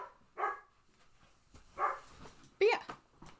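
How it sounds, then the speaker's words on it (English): A dog barks on the other side of a closed door, three short, sharp bursts spaced about a second apart, muffled and fairly quiet indoors. "she's barking at the door now because she realized I closed her out again"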